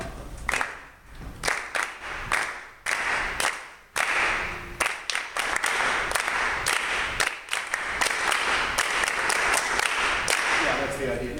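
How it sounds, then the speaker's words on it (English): A group claps short musical rhythms together in unison, sharp claps falling in uneven patterned bursts with brief pauses between phrases, close and fairly loud, a voice briefly speaking at the start. "Let's clap those rhythms."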